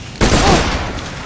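A sustained, loud gun blast erupts in Borderlands 2 and rolls on as a dense, noisy roar for about a second before easing off slightly.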